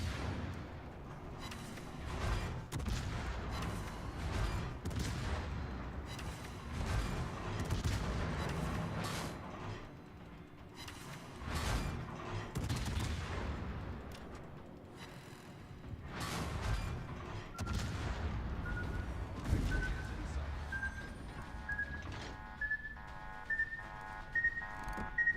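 Ship guns fire in the World of Warships video game, heavy booming salvos and blasts rolling out one after another at moderate loudness, with a rising whistle tone near the end.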